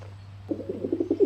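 A person's voice imitates a pigeon's cooing during a children's yoga session, a short run of soft, low, pulsing coos over a faint steady hum.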